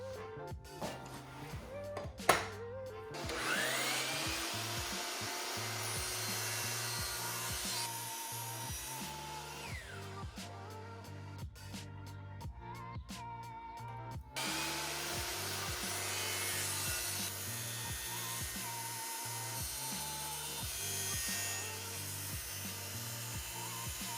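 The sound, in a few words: miter saw cutting wood pieces on an angle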